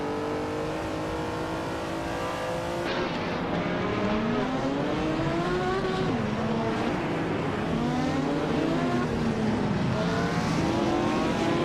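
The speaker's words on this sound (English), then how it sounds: "The battle for 15th between Bot Lirusil and Bot Mermudar seems to be tightening, with both cars vying for that position" Race cars battle for position in a video game race, engines revving and sweeping up and down in pitch as cars pass and accelerate, a continuous loud drone with no talking.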